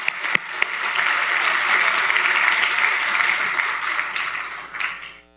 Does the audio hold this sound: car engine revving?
no